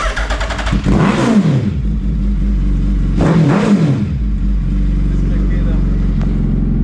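A Suzuki Hayabusa Gen 2 motorcycle fitted with a Brocks exhaust revs hard twice, each blip rising and falling sharply over a steady loud idle, close to the microphone.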